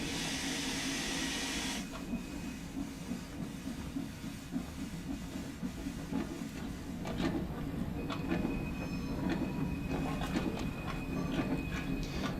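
A Stainer 8F steam locomotive from a 1950s Liverpool-to-Crewe run in the game Train Sim World 2 rolls steadily, with a continuous hiss, rumbling wheels and intermittent clicks over the rails, alone without talk.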